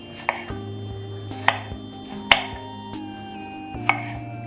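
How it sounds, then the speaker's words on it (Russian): Fresh strawberries being chopped into small pieces with a knife on a board, four or five crisp, spaced chops close by with no voices. "Для начинки клубнику порежем небольшими кусочками."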